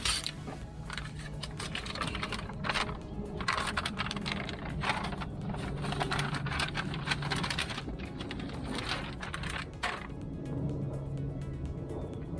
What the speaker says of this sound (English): I'm just gonna peel the whole backing off and get to it.